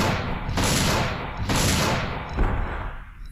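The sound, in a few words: gunshots in Dino Crisis 2 video game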